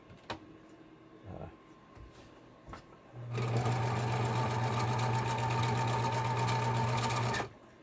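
A Viking 120 sewing machine running a straight stitch, a steady close mechanical whir with rapid needle clatter lasting about four seconds, after a few quiet clicks.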